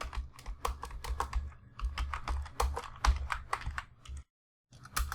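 Someone types Python code on a computer keyboard, producing quick uneven bursts of key clicks close by, with a brief full pause before the tapping resumes.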